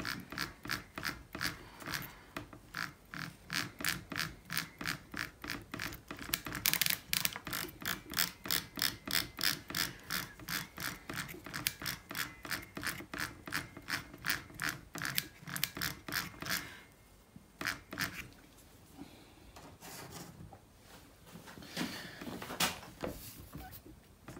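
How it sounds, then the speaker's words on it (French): A freshly greased jigsaw mechanism is turned by hand, giving a close, rapid and regular ratcheting clatter of gears that runs for most of the time before slowing into looser, uneven clicks. "je mets un petit peu de graisse et puis je fais tourner. Je fais tourner tout le mécanisme"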